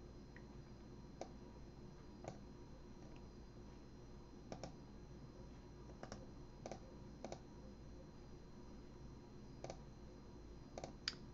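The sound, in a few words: typing on a computer keyboard and clicking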